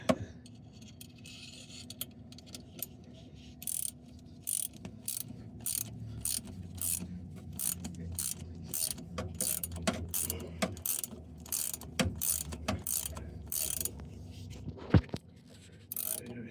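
Ratchet and wrench work fitting a front leveling kit on a 1998 Toyota Tacoma 2WD: quick bursts of mechanical ratcheting clicks repeat close by, broken by short pauses, metallic clinks and scraping, with no talking.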